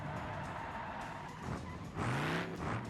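An old American V8 car in BeamNG.drive growls steadily, then revs up sharply with a rising engine note near the end, close and loud, with no talk.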